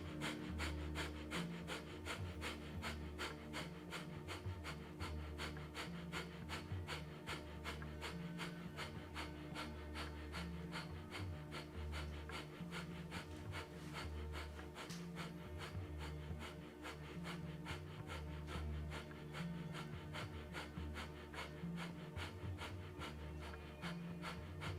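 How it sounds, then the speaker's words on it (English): A person does rapid 'breath of fire' yoga breathing, a fast, even train of sharp nasal exhalations that continues steadily for the whole stretch, close and fairly quiet, with no talk. "breath of fire."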